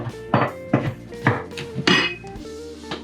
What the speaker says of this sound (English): So just I'm gonna chop it a little bit.